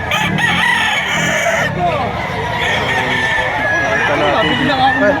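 Roosters crow repeatedly at a busy chicken market in Lipa, Batangas, with overlapping loud calls and clucking from many birds nearby, while people talk in the background.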